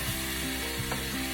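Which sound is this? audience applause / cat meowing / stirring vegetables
stirring vegetables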